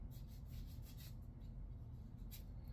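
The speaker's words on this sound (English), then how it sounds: "Removing unwanted glue." Rubbing unwanted glue off leather sandals makes soft, quiet scuffing strokes, repeated in an irregular rhythm close by over a low background rumble.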